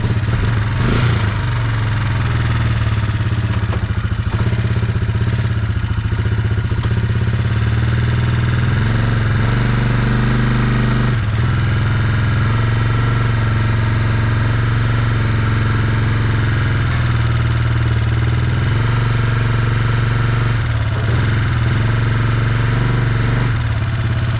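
A 1965 Chevrolet Impala SS big-block V8 runs at a steady, loud, deep idle close by, a rumbling low drone with slight irregular lope throughout and no talking.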